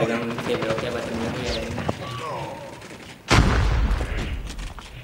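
An RPD machine gun in Call of Duty opens up suddenly and loudly after a stretch of excited talk, a heavy booming blast that rolls on as sustained rattling fire.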